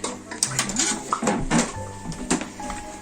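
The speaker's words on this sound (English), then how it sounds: "Take it across to the skillet. And we take it and we brown it in the skillet." A beef pot roast is carried over and set into a heated skillet, with clattering pan and utensil knocks and a few metallic scrapes at close range, irregular and moderately quiet.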